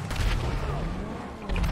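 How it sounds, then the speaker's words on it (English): A loud, sustained rumbling blast from a GTA V video game explosion fills the clip, dense and booming with crackling debris, ending in another swell of noise. "Explosion!"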